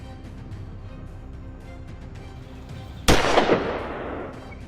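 A rifle fires a single sharp, loud shot at wild boars at night, echoing and decaying over a steady background hum.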